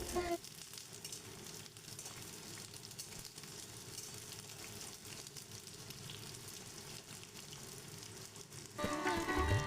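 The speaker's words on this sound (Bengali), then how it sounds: "প্রথমে আলুটা দিয়ে আলুটা একটু ভাজার পরে আমি পটলটা দিয়ে ভালো করে সামান্য লালচে হওয়া অবধি আমি আলু পটলটা ভেজে তুলে রেখে দেব" Potato and pointed gourd (potol) pieces fry in a pan with a steady, close sizzle that holds throughout and grows louder and brighter near the end.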